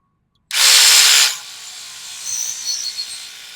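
A power tool cutting off a short piece for DIY boat trailer guides, one loud burst of under a second that stops abruptly, followed by a faint ringing hum as it winds down.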